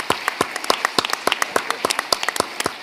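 Scattered applause from a modest audience at a mental health policy symposium, distinct individual claps close by, thin and brief.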